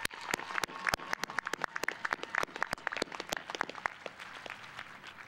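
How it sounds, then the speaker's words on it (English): Applause for a university president at a commencement ceremony comes as sparse, scattered claps, individual sharp slaps from a few hands, fairly faint and irregular, thinning out toward the end. "a round of applause for President Gordon and his 22 years of visionary leadership"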